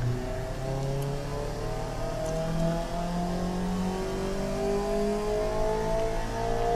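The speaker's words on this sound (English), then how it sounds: "Is the engine knocking?" Simulated engine revving in the Automation car-building game, a 1989 MX-5 or Honda S2000 build with two straight-through mufflers, droning steadily and loudly with rising and falling harmonic tones throughout, no talking.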